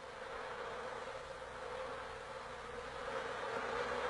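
A steady, dense hum of many honeybees buzzing together, continuous and even with no pauses, soft and slightly swelling toward the end.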